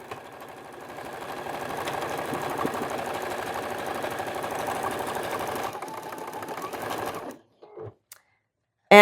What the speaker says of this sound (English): I'm just going to zigzag right on across